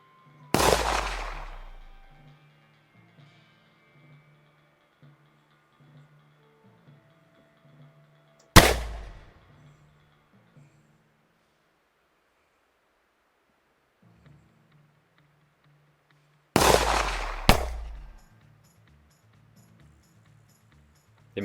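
Gunshots ring out in a Wild West shootout video game: four sharp, loud cracks with short ringing tails, the first two far apart and the last two in quick succession, separated by quiet stretches of faint game music.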